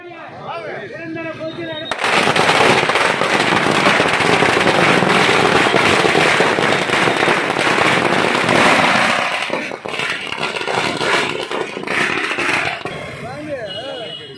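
Firecrackers set off by party members at a political celebration in Tamil Nadu crackle in a dense, loud, continuous volley lasting over ten seconds, with voices faintly audible before and after.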